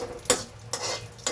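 Ingredients for a chutney get stirred in a pan: three quick spoon scrapes in a row, fairly close but soft, over a faint background hiss.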